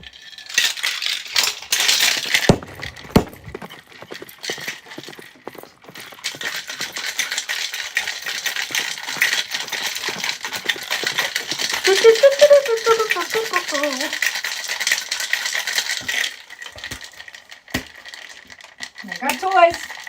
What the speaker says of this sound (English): We're going to shake it now.